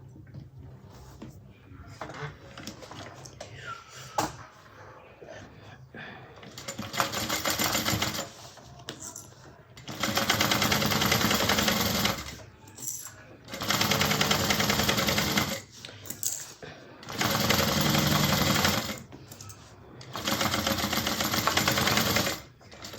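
Sewing machine stitching a seam with a 3/8-inch allowance on a handmade Kellie bag, running in four loud sustained bursts of several seconds each, separated by quieter pauses with faint handling sounds.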